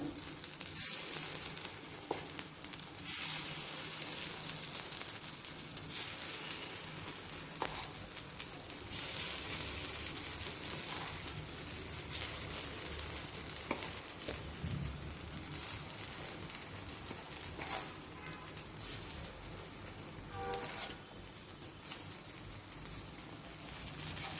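Spoonfuls of batter dropped into a hot paniyaram pan for gunta ponganalu keep up a soft, continuous sizzle and crackle throughout, with no talking over it.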